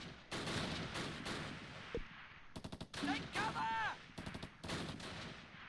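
Gunfire crackles in the Close Combat Last Stand Arnhem war game at Arnhem Road Bridge and Oosterbeek, with rapid machine-gun bursts, single shots and heavier blasts packed densely together at moderate distance.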